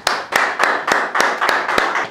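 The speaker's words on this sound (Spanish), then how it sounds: "¡Un aplauso!" A few pairs of hands clap in a quick, even rhythm, about eight sharp claps in two seconds, close and fairly loud, at a low-budget mock exorcism skit.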